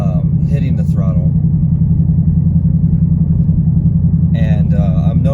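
A 2015 car fitted with MSD Street Fire ignition coil packs, its engine a loud steady low rumble close by at throttle, with someone talking briefly at the start and end.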